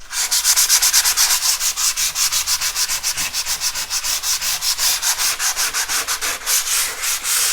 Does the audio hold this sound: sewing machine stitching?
no